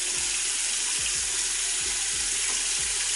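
Water runs steadily from a bathroom sink tap while a face is rinsed, with a constant broadband hiss and a few soft splashes and low thumps of hands in the stream, close by.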